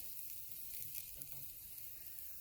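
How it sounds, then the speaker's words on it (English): Deer burgers sizzle on a hot charcoal grill, a soft, steady hiss and crackle heard alone. "Start putting burgers on there."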